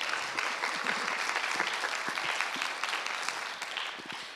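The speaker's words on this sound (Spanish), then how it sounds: "Un fuerte aplauso para él" An audience applauds a speaker at an environmental education panel discussion, a steady wash of clapping lasting about four seconds with a few sharper claps near the end and no talk over it.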